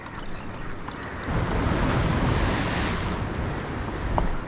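Ocean waves surge and break against shoreline rocks in a splash zone, a loud, continuous broadband wash mixed with wind that swells midway and stays close, with no voices.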